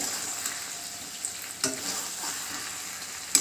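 Steady sizzling of chilli chicken frying in a pan without deep frying, soft and close, with a couple of faint clinks from a utensil.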